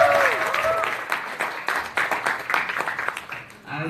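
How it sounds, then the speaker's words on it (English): An audience at a book launch for a film star's biography gives a short round of applause, with distinct claps in a quick, uneven patter that rises and then trails off. "Can we have a round of applause for Padmavati?"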